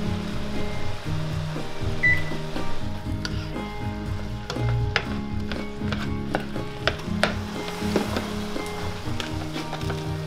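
Food in a pan on a stove set to medium-low sizzles and crackles quietly and steadily, with occasional small pops and no talking.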